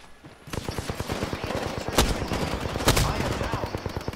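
Rapid automatic gunfire in the Apex Legends battle royale game, loud and sustained, with dense rhythmic shots and a couple of heavier impacts over several seconds.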